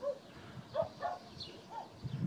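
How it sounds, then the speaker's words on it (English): A lone dog barks a few times from far off, faint and intermittent over outdoor background noise beside a freeway bridge on a walking route. "There's a stupid barking dog in the distance"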